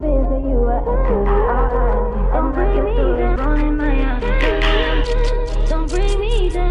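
A looping R&B-sample Jersey club beat with steady kick pulses and melodic sample layers, its brightness opening up over time as an automated filter cutoff sweeps the high end in toward the end.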